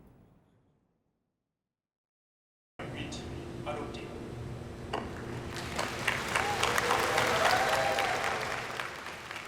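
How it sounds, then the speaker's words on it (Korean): Cheering and applause break out at the moment the Seosan mudflat is confirmed as a World Heritage site. A crowd claps loudly and continuously after a short silence, swelling and then holding steady. "서산갯벌의 세계자연유산 등재 확정 순간 환호성과 함께 박수가 터져 나옵니다"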